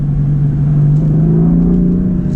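BMW M4 Convertible with manual gearbox and turbo engine accelerating, a loud steady droning engine note rising slowly in pitch as revs climb, heard from inside the car.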